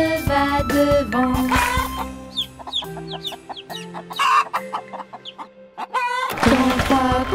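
Cartoon hen clucks in a French children's counting song about three hens going to the field, a string of short squawks and clucks over bouncy music, with sung vocals before and after.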